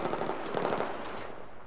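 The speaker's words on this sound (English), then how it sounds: "unless someone's actually shooting back at me" Rapid automatic gunfire in Battlefield 4, a short dense rattle of shots near the listener that holds for just under two seconds and fades slightly at the end.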